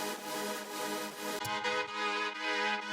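A sustained, bright synth lead preset from the Lost sound bank plays held chords, a dense, quiet wash with a slight break midway before the chord continues.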